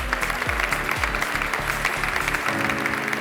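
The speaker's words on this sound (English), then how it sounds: "please therefore give a round of applause for Cesar Araujo" An audience at the PCIAW 2023 summit gives a steady round of applause that fills the hall, with low booming music pulses underneath.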